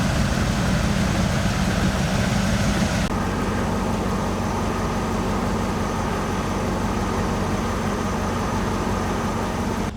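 A 2004 Dodge Ram's engine idles steadily throughout, a constant low rumble with a slight shift in tone about three seconds in, while warming up to bleed the coolant system.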